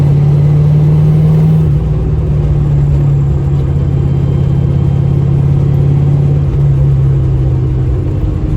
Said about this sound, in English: as you can hear, definitely feeling every little ripple in the road